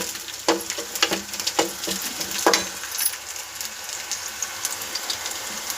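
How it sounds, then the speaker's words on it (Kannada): Garlic sizzles and roasts in a hot pan for a village-style sprouted-bean curry, a soft continuous fry broken by sharp clicks and scrapes as it is stirred, fairly quiet. "ಬೆಳ್ಳುಳ್ಳಿ ಹಾಕಿದ್ಮೇಲೆ ಚೆನ್ನಾಗಿ ರೋಸ್ಟ್ ಮಾಡಿ ಮತ್ತು ರೋಸ್ಟ್ ಮಾಡಬೇಕು"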